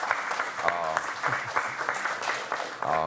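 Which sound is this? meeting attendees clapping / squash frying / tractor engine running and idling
meeting attendees clapping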